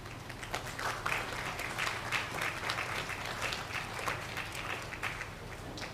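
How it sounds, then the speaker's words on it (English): An audience at a livestock show applauds the junior exhibitors, a sustained burst of dense clapping heard at moderate distance with no lull. "let's give all these juniors a big round of applause"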